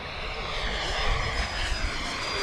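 An HSD Hobby Super Viper RC jet makes a presentation pass out front, its steady turbine whoosh droning evenly throughout with slight rises in loudness, heard alone at moderate distance.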